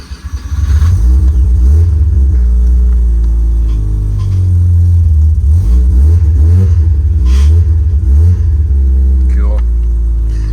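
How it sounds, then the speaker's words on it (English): A Mazda FC RX7 under restoration cranks and fires up, its engine rumbling loudly and revving in uneven surges over several seconds, close by and dominating. "pray my car starts up"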